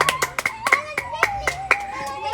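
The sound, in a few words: hand clapping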